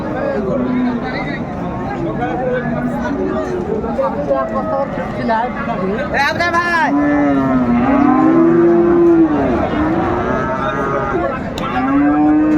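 Several Sahiwal bull cattle low and moo repeatedly at a cattle market in Dinajpur, long drawn-out calls rising and falling over a busy crowd of people talking nearby.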